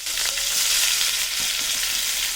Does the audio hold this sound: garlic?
yes